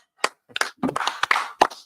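Congregation at a Sabbath service clapping in scattered, uneven bursts, a few sharp claps then a denser ragged patch, fairly close and fading out.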